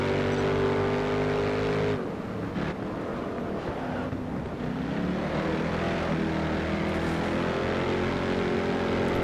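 Race car engines in GRID Autosport at Brands Hatch, a loud steady drone of revving motors with harmonic whine, shifting pitch around a gear change early on, continuous with no talk.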